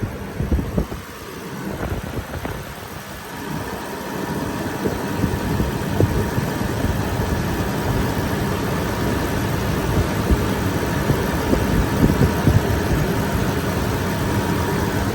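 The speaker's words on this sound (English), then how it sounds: "Let's take a look, listen to the engine" Range Rover Sport HSE engine, previously overheating and leaking radiator fluid, idling steadily with a low continuous rumble and vibration heard close under an open hood, with no speech.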